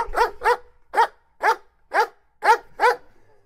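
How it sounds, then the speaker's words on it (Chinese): An AI-generated dog barks eight times in a quick, even rhythm, each bark close, loud and clear against silence. "我们听一下狗叫的声音"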